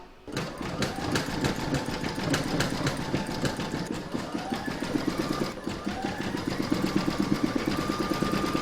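An embroidery machine runs a satin stitch around the edge of a letter on a coaster, a rapid close rhythmic needle chatter that continues throughout with faint rising motor tones.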